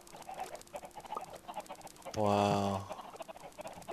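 Chickens cluck in a Minecraft chicken farm, a short burst of blocky game clucking under quiet background noise, with someone briefly speaking over it.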